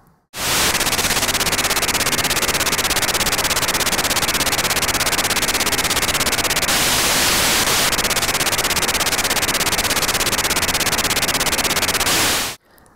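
DMR digital radio transmission heard as a dense, harsh buzzing static that fills the whole band, steady and loud for about twelve seconds, starting and stopping abruptly.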